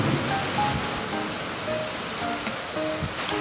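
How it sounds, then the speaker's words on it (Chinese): Sudden heavy summer rain pouring down outdoors, a steady hissing wash of drops with no talking. "哇，一下这么大雨啊！"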